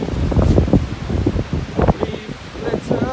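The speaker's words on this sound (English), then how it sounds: "Yeah, it got windy." Strong Storm Dennis wind gusts across an open countryside path, buffeting and rustling in uneven bursts right at the microphone, with a voice speaking briefly among the gusts.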